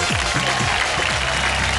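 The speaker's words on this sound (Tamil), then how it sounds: "பலத்த கரகோஷங்கள்." Loud audience applause in a studio, a dense unbroken wash of clapping filling the whole short stretch.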